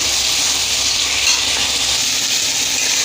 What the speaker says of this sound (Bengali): মশলা থেকে তেল আলাদা হয়ে গেছে এবার দেবো কেটে ধুয়ে রাখা বেগুন টুকরো টুকরো করে রাখা বেগুন বেগুনটা দিয়েও একটু কষাবো